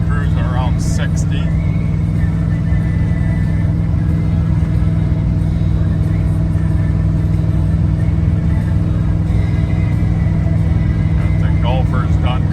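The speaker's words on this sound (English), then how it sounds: "We're out driving our 85 Chevy C10." A 1985 Chevrolet C10 pickup cruises down a road at around sixty, its engine giving a loud, steady low rumble inside the cab, with a stereo and air blowing and a person talking over it.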